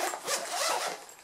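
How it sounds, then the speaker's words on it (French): A zipper on a sturdy Nintendo Switch carrying case is pulled in one quick, close rasping run, alone and fairly quiet. "La fermeture éclair,"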